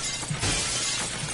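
Glass shatters loudly in the physics game Happy Wheels, a crashing break near the middle followed by a scattering rattle of shards that fills the rest of the short moment, with no voices.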